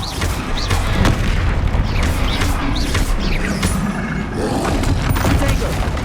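Confringo blasting spells explode in Hogwarts Legacy during a troll fight, a run of sharp, crashing blasts and impacts repeating every second or so over a dense, noisy battle bed.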